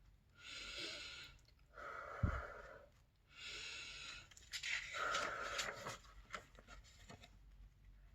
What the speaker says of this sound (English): Take 2 deep breaths with me.